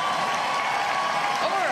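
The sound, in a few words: studio crowd cheering and applauding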